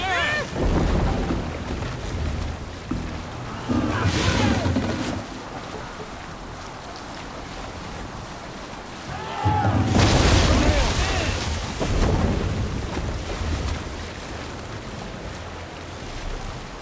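A Viking longship sailing on open water in Assassin's Creed Valhalla, with surging waves and rushing spray swelling in and out, loud splashing bursts between calmer stretches, and a voice calling out over it.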